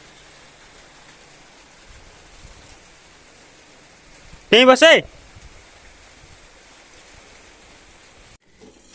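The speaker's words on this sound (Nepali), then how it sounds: "पानी परे हामी आएको त पानी नै बोकेर आयो जस्तो" Steady rain falls outdoors in Nepal, an even, quiet hiss throughout with a short burst of speech partway through.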